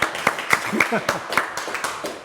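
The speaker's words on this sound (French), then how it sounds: "On peut l'applaudir quand même, c'est pas mal." A studio audience gives a few sharp, evenly spaced claps for a magician's card trick on a French TV show, the claps loud and close, with a voice talking between them.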